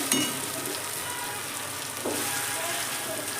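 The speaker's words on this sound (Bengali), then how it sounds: "চিকেনটা দিয়ে ভালো করে মশলার সঙ্গে এবার কষিয়ে নেব" Chicken pieces sizzle and spit loudly as they are stir-fried with spices in a hot pan, a continuous close crackling hiss that swells after a fresh stir near the middle.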